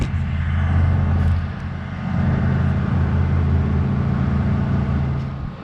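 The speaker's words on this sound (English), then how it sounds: "we came to the shop to see how the muffler sounds" Exhaust rumble from a Chevrolet Silverado Z71 fitted with a custom stainless steel exhaust and Borla Atak muffler. It is a steady, loud, close low drone that swells slightly, with no talking.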